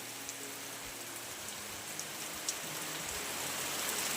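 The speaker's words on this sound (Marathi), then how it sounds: "छान पाऊस पडतोय." Steady rain falling outdoors at the back of a village house, an even hiss of drops on surfaces with occasional louder splats, no voices.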